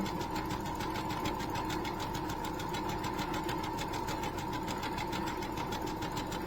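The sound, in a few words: sewing machine stitching a quarter inch seam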